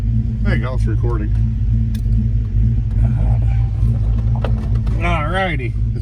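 A 1995 Mustang Cobra idles while warming up, a steady deep low rumble with a throbbing pulse running throughout, with people talking close by over the engine.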